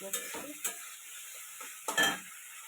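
Fried potatoes being stirred into a sizzling pan for a katla fish-head curry, quiet frying hiss broken by a few scraping stirs of a utensil against the pan.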